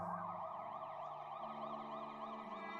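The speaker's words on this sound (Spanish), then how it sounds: "mientras el zumbido de las sirenas comenzaba a desvanecerse desde la distancia" Emergency vehicle sirens wail in a steady, continuous rise and fall, loud throughout the short stretch with no voices over them.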